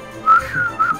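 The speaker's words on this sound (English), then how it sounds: "I can whistle." A person whistles a brief wavering tune, a couple of rising and falling notes over about a second, close and fairly clear.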